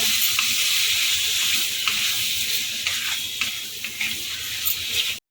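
Prawns frying in oil in a kadai for a ghee roast, giving a steady dense sizzle and hiss that holds close and loud throughout, with small crackling spikes, before cutting off abruptly at the end.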